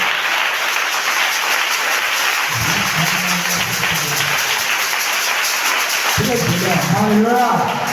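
A church congregation applauds and cheers in praise of Jesus, a continuous wash of clapping that runs throughout while a voice speaks over it in two stretches.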